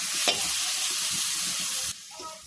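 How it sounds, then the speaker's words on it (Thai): Kua kling curry paste being stir-fried in a pan, a loud hissing sizzle with a sharp scrape early on, then cutting off abruptly into quieter stirring sounds. "ใส่พริกแกงคั่วกิ้งไปแล้วนะครับเพื่อน ๆก็ลวนแห้งๆนิดนึงนะครับ"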